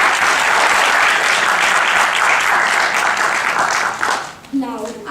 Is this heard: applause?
yes